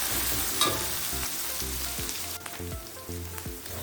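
Onions fry in a pan, a close, steady sizzle with intermittent scraping and stirring knocks from a utensil, no talking.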